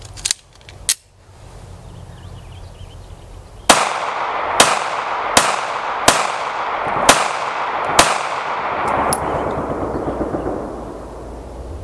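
Springfield 911 .380 ACP pistol firing Hornady Critical Defense rounds: two sharp cracks, a pause, then about six loud reports at a steady, roughly one-second pace, with outdoor ambience between them.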